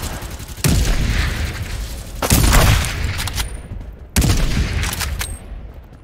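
Gunfire in the battle royale shooter Farlight 84: three loud, booming bursts spaced roughly two seconds apart, each decaying slowly into background rumble.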